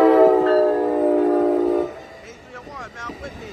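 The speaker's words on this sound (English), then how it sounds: "here comes Amtrak 528 to Sacramento. Here it comes now." Amtrak Capitol Corridor passenger train 528, led by locomotive 8301, passing at 98th Ave in Oakland: a loud sustained horn blast with layered tones for about two seconds, then fading rumble and rail noise.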